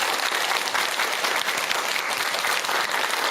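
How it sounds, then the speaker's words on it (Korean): An audience at a Buddhist dharma talk at a temple claps steadily, a full round of applause sustained evenly throughout. "큰 박수 한번 주세요."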